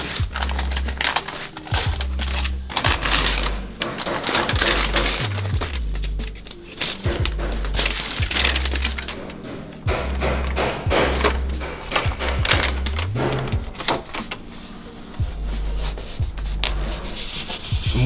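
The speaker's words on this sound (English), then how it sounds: "I'm going to peel off this top section first." Backing is peeled off Dodo Thermoliner Pro insulation while soundproofing a camper, making a long run of close, loud rubbing, crinkling and tearing noises broken by bumps and thuds, with no speech.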